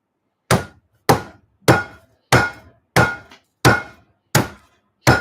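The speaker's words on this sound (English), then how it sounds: "Beating the ginger." Ginger being beaten to crush it, eight sharp, evenly spaced thuds about two-thirds of a second apart, close and loud, each decaying quickly into silence.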